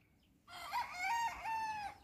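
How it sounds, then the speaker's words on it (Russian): A rooster crows once in a long, drawn-out call, fairly distant and faint over quiet outdoor background in a mango grove in Anaga, Tenerife. "курица или петух орет"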